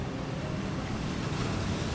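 Sea waves wash against the coast near Kunkeshwar in Maharashtra in a steady, soft roar, with wind buffeting the microphone.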